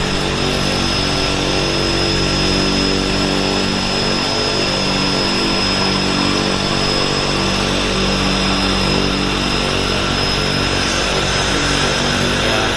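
A twin-engine floatplane runs both engines at a Vancouver float base, a loud, steady propeller drone with an unbroken engine hum filling the whole stretch and no talk over it.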